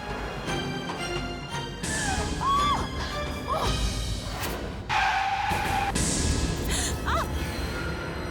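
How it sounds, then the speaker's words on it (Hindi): A car skids with squealing tyres and crashes into someone, sharp screeches and impacts rising over a busy noisy background across several seconds, with brief gasps in between. "एक्सीडेंट कर दिया तूने"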